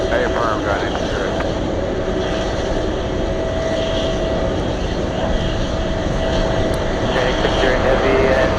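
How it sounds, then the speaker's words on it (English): A Boeing 707 cargo jet powers up at Anchorage on a gusty day, its engines a loud, sustained, even roar that holds throughout. "707, powering up"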